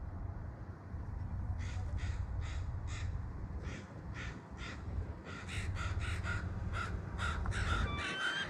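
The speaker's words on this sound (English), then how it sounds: "what in the heck are those ravens thinking?" Ravens cawing near a bald eagle on the Alaska coast by Valdez: repeated harsh caws in short bursts, first spaced, then faster and overlapping, over a steady low background rumble.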